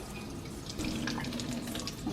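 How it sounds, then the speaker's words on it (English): Tap water runs steadily into a metal pot in a home kitchen while tea is being made, a close, continuous splashing stream that deepens slightly as the pot fills. "Catching some water."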